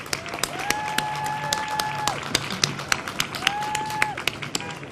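A graduation audience applauds, a dense wash of clapping from a large crowd carrying on steadily, with a few sharper claps and faint voices mixed in.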